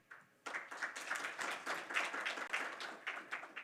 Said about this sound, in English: Let's give again once an applause to the Day 1 colleagues.